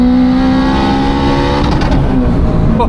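A turbocharged 500 bhp Honda Civic Type R engine revs loudly and close, holding a harsh droning pitch with a whistling, screaming note from a bonnet-exit screamer pipe over it.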